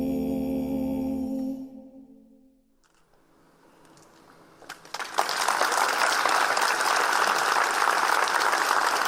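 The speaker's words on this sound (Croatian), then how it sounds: "Evo i mi plješćemo." Applause from a dance performance audience at a Rijeka carnival-style show builds after a quiet gap, rising into loud, sustained clapping with cheers that fills the last several seconds after music fades.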